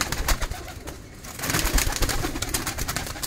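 Punjabi Malwai pigeons coo softly and repeatedly at close range, their low throaty calls mixed with rustling and scattered knocks from the flock.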